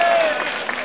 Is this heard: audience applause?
yes